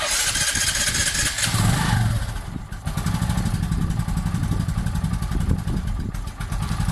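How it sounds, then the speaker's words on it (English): A Bajaj Boxer X150 motorcycle engine, in neutral, fires up and settles into a steady, loud idle with a rough, close-up mechanical putter that carries on to the end. "Now it's in neutral. I'm gonna start it up."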